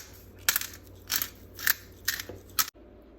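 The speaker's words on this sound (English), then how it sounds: "I prefer the grinder because it has more of the freshness of the pepper" A hand-held pepper grinder crunches peppercorns in five short, close gritty bursts spaced about half a second apart, then stops.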